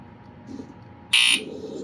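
A BRK 1769ACW-I direct-wire smoke alarm under test gives a sharp, piercing electronic beep once for about a quarter second, loud and close, over a quiet room background.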